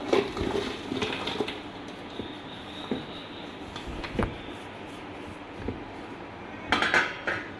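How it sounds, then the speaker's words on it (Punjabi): Jaggery pieces drop into a mixer grinder jar with a series of scattered hard clinks and knocks, close by, and a brighter cluster of rattles near the end. "ਉਸ ਤੋਂ ਬਾਅਦ ਆਪਾਂ ਮਿਕਸੀ ਵਾਲੇ ਜਾਰ ਦੇ ਵਿੱਚ ਆਪਾਂ ਪਾਵਾਂਗੇ ਗੁੜ ਨੂੰ"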